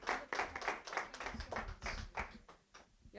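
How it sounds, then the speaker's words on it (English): Small audience clapping at an artist talk in an island art gallery, a brief uneven patter of hands that thins out toward the end. "So give Hewan a round of applause."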